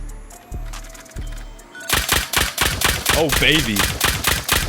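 Nail gun auto-turret in a video game fires a rapid, loud burst of sharp mechanical shots, following a few isolated thuds; a voice speaks briefly over the firing.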